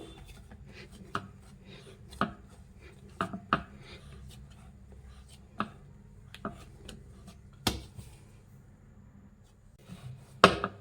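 Soft dough for bakery-style buns being cut with a knife, giving sparse, quiet ticks and taps at irregular intervals against a faint, steady background.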